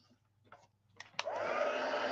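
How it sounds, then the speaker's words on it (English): Embossing heat tool blowing hot air over cardstock with embossing powder, a few soft taps and clicks before the motor switches on into a steady whirring blow that holds to the end, close and alone. "now we're going to go ahead and hit both of these pieces of cardstock with our heat tool."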